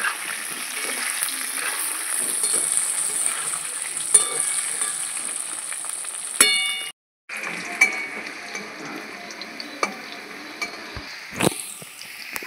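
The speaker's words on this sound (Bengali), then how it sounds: "আলুগুলো লাল করে ভেজে নেব" Potato pieces seasoned with salt and turmeric fry in a pan until reddish, making a continuous close sizzle with occasional utensil clicks and a short pause in the middle, and no speech.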